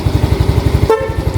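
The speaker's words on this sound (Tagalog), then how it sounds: "So ito yung busina. So dual horn pa rin to." A Bosch dual horn on an MSI 125 motorcycle sounds a short loud honk close by over the idling engine's rapid rhythmic putter, which continues after the horn stops.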